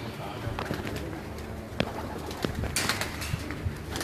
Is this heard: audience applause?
no